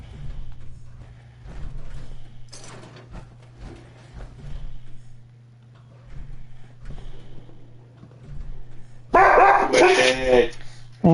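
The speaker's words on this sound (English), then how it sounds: "And here goes the dogs." Dogs in Fallout 4 break into loud, close, rapid barking near the end, after quieter game sounds and a steady low hum with scattered speech.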